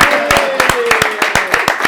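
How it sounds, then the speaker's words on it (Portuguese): A short burst of applause from a small group, with brisk close claps and a voice speaking over it. "eu queria pedir uma salva de palmas"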